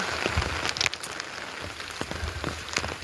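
Rain falls steadily on a village hillside path while people walk through it, a close, continuous patter with scattered sharper drops striking nearby surfaces, no talking.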